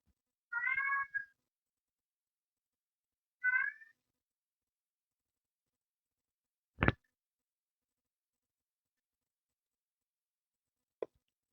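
A chatty cat meows twice close by in a quiet indoor room, with a couple of short sharp taps later and no talking.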